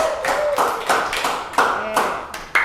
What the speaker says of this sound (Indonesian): Tepuk tangan dulu buat kelompok 2.